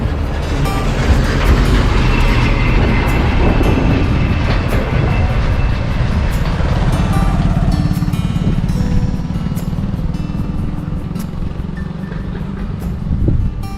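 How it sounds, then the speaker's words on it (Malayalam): A lorry on a hillside road near Chulliyar dam in Muthalamada, Palakkad, rumbles loudly and continuously nearby, a heavy engine drone with rattling that holds throughout and eases only slightly toward the end. "ലോറി വരുന്നു."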